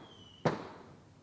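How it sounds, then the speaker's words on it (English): A single Fourth of July firework bursts outdoors, a sudden distant bang that fades quickly. Nothing else breaks the quiet and no one speaks. "Oh, it's fireworks. Fireworks are going off."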